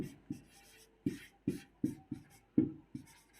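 Chalk or pen taps and scratches out a math solution on a board, a series of distinct knocking strokes spaced irregularly, close and clear with no talking.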